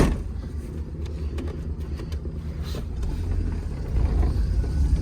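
A Suzuki Mehran with rear coil-over shock springs on a short test drive over a narrow brick-soled road, steady low engine and road rumble inside the cabin with faint creaks and knocks from the suspension.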